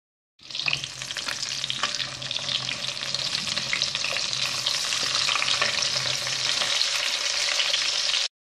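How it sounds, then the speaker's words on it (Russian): Steady, dense sizzling of battered chicken breast cutlets frying in hot oil over medium heat, a continuous crackle with small pops throughout, close and fairly loud, no voices. "Жарим таким же образом на среднем огне до золотистого цвета с обоих сторон"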